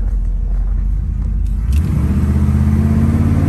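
A 1972 Chevrolet El Camino's engine rumbles loudly up close, then its pitch climbs as it accelerates, with steady road noise throughout.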